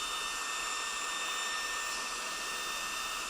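A Performance Guru oversize turbo dryer blower runs at its first speed level, giving a loud, steady, close whooshing roar that holds without change and has no talk over it.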